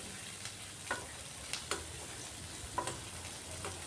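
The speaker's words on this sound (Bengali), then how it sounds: "বেশ কিছুক্ষণ পেঁয়াজটাকে ভাজতে হবে, তবে বেরেস্তাটা খুব সুন্দর হবে।" Onions frying over full gas heat for beresta give a faint, steady hiss, broken by occasional soft clicks of stirring, quiet and close with no voices.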